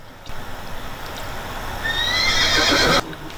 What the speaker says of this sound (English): So you just put that noise of the horse in the background.